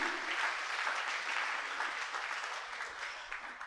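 A church congregation applauding during a Sunday service, dense sustained clapping from a crowd that holds steady for a few seconds, moderately distant in the hall.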